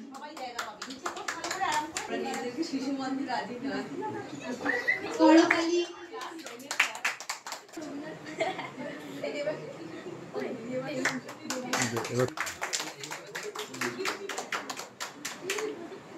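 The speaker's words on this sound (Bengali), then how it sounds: "করতালি" Applause at a Rabindra Jayanti children's program, a crowd clapping in bursts with scattered claps between, mixed with children's voices and chatter.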